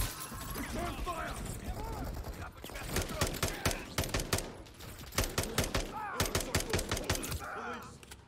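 Bursts of automatic gunfire in the Call of Duty Modern Warfare 3 campaign crack in rapid repeated volleys, loud and sharp, with shouted dialogue and mechanical clatter between them.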